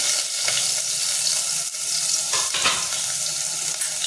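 Onion dropped into hot oil in a pan for a clam curry, a loud close hissing sizzle that runs steadily with a few stirring scrapes.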